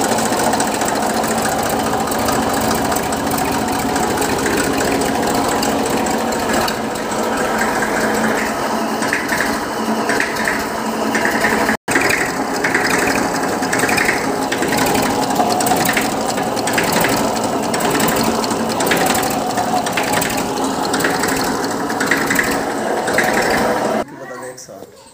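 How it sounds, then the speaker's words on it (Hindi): Massey Ferguson 1035 tractor from 1996, in good condition, running steadily after starting, with a loud continuous mechanical clatter and rhythmic engine knock throughout, briefly interrupted once, with talk mixed in. "स्टार्टिंग देख लो, बहुत साफ अच्छी कंडीशन की स्टार्टिंग है।"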